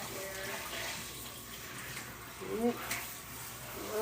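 Running tap water pours over tie-dyed fabric being rinsed, a steady close splashing stream with a few brief surges of sloshing as the cloth is moved, while someone talks over it.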